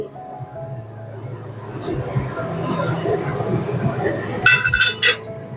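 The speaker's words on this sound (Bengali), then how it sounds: "এবারে দেখুন আমি কৌটোটা খুলছি কিন্তু কৌটোটা আমি ধাক্কা দিয়ে খুলেছি" A metal tin holding steamed hilsa (ilish bhapa) is pushed open: a low kitchen rumble, then two or three sharp, close metallic clanks in quick succession near the end.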